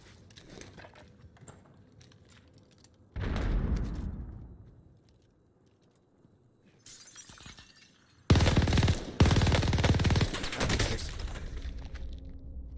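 Machine gun fire from the Warzone Pacific battle royale on the Caldera map, with bursts near the start and long, loud, dense sustained volleys toward the end, among other game noises.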